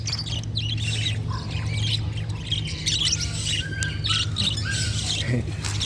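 Birds squawk and chirp in bursts at a pet market behind Talad Thai, some of them wet after bathing, over a steady low hum and a background murmur of voices.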